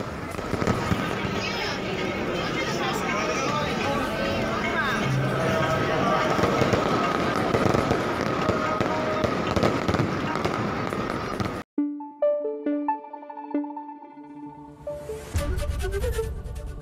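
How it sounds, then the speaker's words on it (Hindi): A long stretch of crackling, popping fireworks at the Golden Temple for the Guru Ramdas Prakash Parv celebration, with crowd noise and talk mixed in, then it cuts abruptly to quieter tonal sounds. "आतिशबाजी की गई।"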